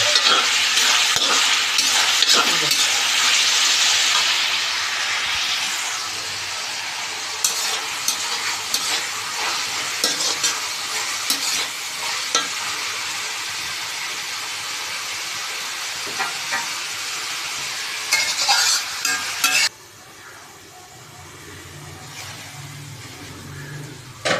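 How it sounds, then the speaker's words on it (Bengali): Rice for chilli chicken fried rice is stirred and fried in a pan, with loud continuous sizzling and repeated scraping stirs close up, easing to a quieter hiss near the end. "মিশিয়ে নাড়াচাড়া করে দিতে হবে। ভালো করে এটা ফ্রাই করতে হবে।"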